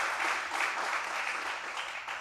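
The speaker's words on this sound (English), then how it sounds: "So another round of applause for Madam Pierce" A room full of people claps in dense, continuous applause that holds steady for a couple of seconds.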